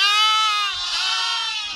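A single drawn-out sheep bleat, loud and close, wavering in pitch for almost two seconds with faint low thumps beneath it.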